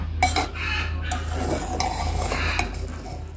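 A spoon scrapes and clinks against a pot of vegetable khichuri cooking on the stove, with a few sharp metallic taps over a steady low hum and soft bubbling, close by with no talking.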